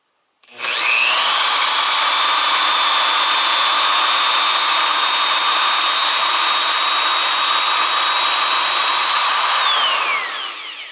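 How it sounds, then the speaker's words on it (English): A power drill whines steadily for about ten seconds at high speed, drilling into a Briggs engine exhaust port for a thread repair, loud and close, then winds down at the end. "I'm going to drill up to that tape."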